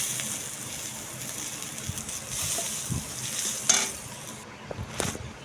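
Onions with salt and turmeric fry in a pan, a continuous close sizzle broken by stirring scrapes and a few light clinks of a utensil against the pan, with no one talking.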